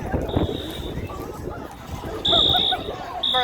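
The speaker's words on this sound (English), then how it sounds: "someone probably pulled the fire alarm" A fire alarm beeps in sharp, high repeating tones, with a short burst early on and longer, louder blasts later, over crowd babble and nearby voices indoors.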